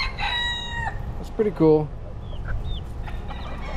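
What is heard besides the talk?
rooster crowing and hens clucking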